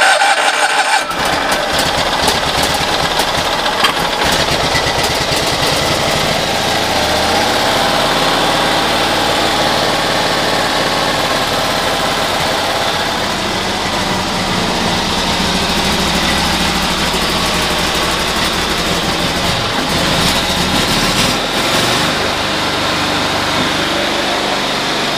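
A Cushman engine, just started on choke, runs at a fast, rough idle with a continuous rattling putter that stays loud and steady throughout, with a rooster crowing faintly in the background.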